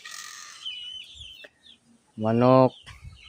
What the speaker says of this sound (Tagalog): Yan ang mga manok ko.